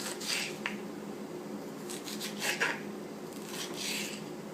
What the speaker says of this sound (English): And now slice thin strips.